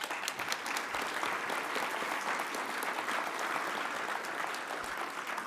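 Conference audience applauding in a large hall, a dense, sustained wash of clapping heard alone at moderate distance.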